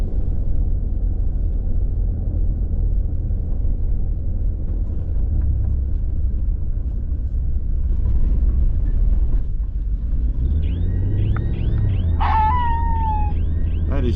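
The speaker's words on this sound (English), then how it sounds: "that's some kind of motion sensor activated wildlife alarm." A motion sensor activated wildlife alarm sounds beside a road, giving warbling, chirping electronic tones and a rising whistle over a steady low rumble of traffic or wind, clearer in the last few seconds.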